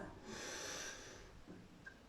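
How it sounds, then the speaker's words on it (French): A person breathes in through the nose in a long, audible sniffing draw during a relaxation exercise, close and soft, then the breath is held and the sound trails off into near silence. "Vous allez inspirer par le nez, bloquer votre respiration et serrer les poings."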